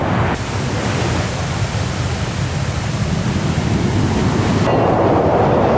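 Big ocean waves crash on the beach at Batu Hiu, Pangandaran, a loud continuous roaring surf wash filling the whole stretch without any voices.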